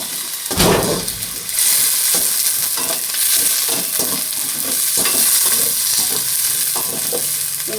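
Garlic, onion and celery sizzle in a hot pan, a continuous bright frying hiss broken by repeated stirring scrapes and a sharp burst as ingredients hit the oil.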